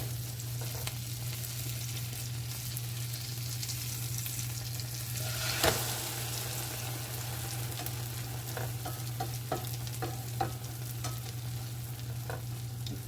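Steady, quiet sizzling of an egg frying in a pan, with occasional soft scrapes and taps over a constant low hum and no talking.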